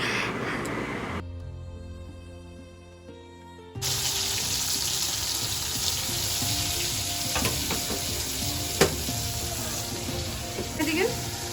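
Food frying in a pan during home cooking for a Rakhi Purnima meal gives a steady broadband sizzle, loud and continuous for most of the span, after a short stretch of quieter tonal sound near the start, with faint clinks over it.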